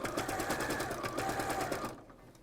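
Sewing machine backstitching the seams of a stuffed toy bunny, a fast steady mechanical whirr with rapid needle pulses, close and continuous, stopping abruptly near the end.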